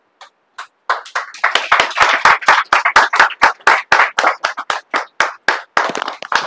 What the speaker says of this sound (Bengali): একটু প্রত্যেকে একটু হাততালি দিও